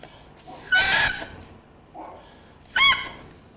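A handmade double reed played alone, giving two short bursts: a buzzy, crackling crow near the start and a brighter, briefer squawk near the end, with a soft breathy sound between them.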